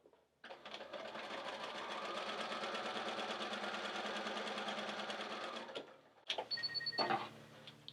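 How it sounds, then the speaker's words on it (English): A sewing machine stitches quilt pieces together in one steady, close whirring run of about five seconds, then stops and is followed by a few brief clicks and handling sounds. "I'll go ahead and sew this other one on while I'm at it"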